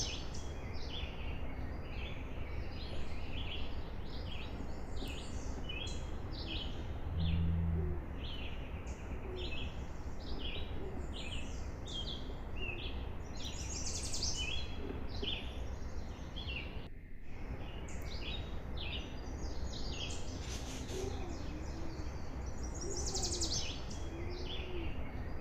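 Birds call around a park pond at Southside Park in Woodstock, Ontario, in July: a steady scatter of chirps and calls over a constant outdoor background, with no voices.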